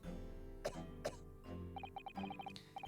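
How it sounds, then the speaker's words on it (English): A man's cough in a seaside setting, heard as two short, sharp bursts in the first second over steady background noise, followed by faint beeping game sounds. "that's definitely the cough of a guy who's at peak physical fitness"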